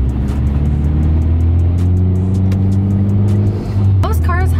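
Engine of a manual car idles and hums steadily in traffic as the clutch goes in and the gear lever moves between neutral and second, a low continuous drone with faint speech-like tones near the end.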